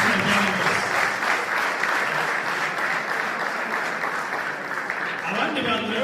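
An audience at a Rwandan scout week closing ceremony breaks into sustained applause, dense many-handed clapping filling the space with a steady crackle.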